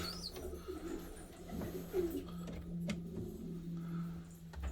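Fancy pigeons coo softly in a loft, low repeated calls over a steady hum, with faint chirps scattered through.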